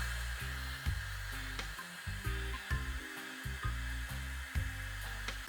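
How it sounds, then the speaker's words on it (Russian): A hair dryer blowing warm air over a woven newspaper basket, a steady whirring hiss with the motor note repeatedly shifting and dipping as the dryer is moved, close and alone. "верхний слой мы должны подсушить феном."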